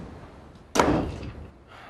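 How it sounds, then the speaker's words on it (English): A door is shut in a domestic drama scene, giving one loud, close slam-like thud followed by a short fading rumble, with no talking around it. "Close the door on your way out."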